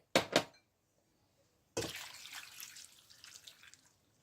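Two cups of water are poured into a pot of Sri Lankan style crab curry: a brief splash at the start, then after a pause a longer pouring gush that gradually tapers off.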